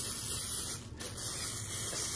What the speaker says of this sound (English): I'm gonna just go ahead and spray them.